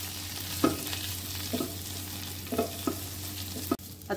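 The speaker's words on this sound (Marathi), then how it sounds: "कढईत छान त्याचा आवाज येतोय, चुरचुरीत इतका छान झालाय।" Curry leaves and green onion sauté in a kadai, giving a steady close sizzle with intermittent stirring scrapes every second or so and no voices.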